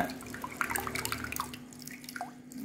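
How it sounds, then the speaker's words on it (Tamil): Water poured into soaked tamarind for a village-style fish curry, a second pour to dissolve the pulp, making soft drips and trickles over a steady low kitchen hum. "ரெண்டாவது வாட்டி தண்ணி ஊற்றி அந்த இதை கரை கரைச்சி எடுக்க போகிறேன்"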